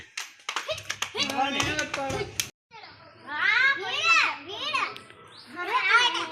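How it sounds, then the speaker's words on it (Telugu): A group of children at a Sankranthi game clap in quick bursts, with sharp overlapping hand claps early on, then excited children's voices chattering and shouting nearby. "ఓకే క్లాప్స్ కొట్టండి ఇంక అందరికీ"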